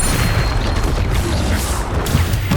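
A Confringo blasting spell goes off in the Hogwarts Legacy video game, a dense rumbling boom layered over continuous game effects and music, loud and sustained with no clear break.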